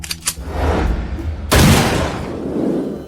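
Gunshots fired at a shooting range target ring out as a loud, sharp blast in the middle, followed by a long reverberant rumble. Softer bursts come earlier.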